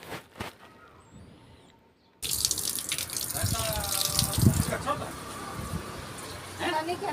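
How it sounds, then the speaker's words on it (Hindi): Water pours onto garden plants in a steady, broad splashing gush beginning after a quiet, faint opening, with a few bird calls in the background. "और उसके बाद डाला पौधों में पानी"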